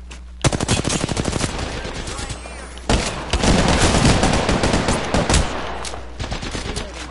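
Rapid video game gunfire crackles in dense automatic bursts, loud and close, with a short pause near the middle before the shooting resumes, with no talk over it.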